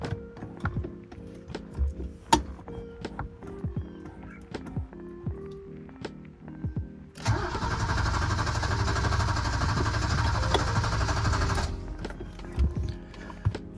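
BMW E30 with a newly replaced fuel pump: a few sharp clicks and taps, then about four and a half seconds of continuous starter cranking that never catches, before stopping abruptly.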